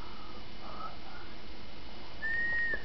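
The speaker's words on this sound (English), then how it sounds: "Come on, whistle for Nana." Riccolo, a bird, gives a single clear rising-and-falling whistle near the end, after a faint short chirp earlier, heard close over a quiet room with light background hiss.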